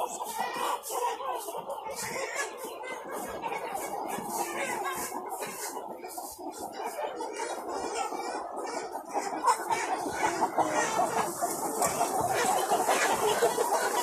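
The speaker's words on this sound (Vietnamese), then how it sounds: "Đây là gà 3 tháng rưỡi các bạn nhé" A dense crowd of chickens, about three and a half months old, clucking steadily on a Vietnamese poultry farm, with a continuous busy chorus that grows slightly louder near the end.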